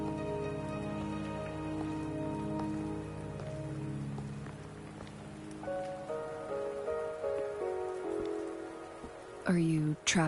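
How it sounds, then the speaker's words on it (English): Rain patters steadily in the video game Wuthering Waves, a soft continuous hiss under a sustained musical drone of layered tones, with a sharper rising game effect near the end. "Es regnet auch noch."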